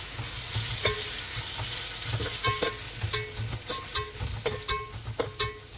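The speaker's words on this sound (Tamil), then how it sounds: "3 தக்காளி சேர்த்து இதை நல்லா சாட்டே பண்ணிக்கிறேன்." Three tomatoes sautéing with ginger-garlic paste in a pan for homemade mutton biryani: a soft, steady sizzle broken by repeated sharp scrapes and clinks of stirring.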